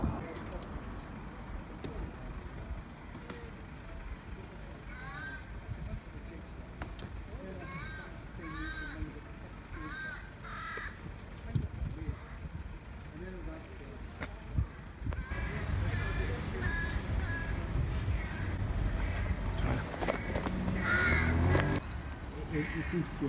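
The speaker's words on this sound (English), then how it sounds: "Crows are making a lot of noise." Crows caw repeatedly in short harsh bursts over steady outdoor rumble, growing busier and louder toward the end, with voices talking faintly underneath.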